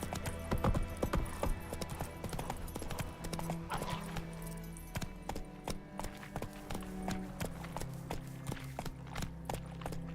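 Roach, a horse in The Witcher 3 video game, gallops with loud, rapid clip-clop hoofbeats close by, steady throughout against a low musical drone.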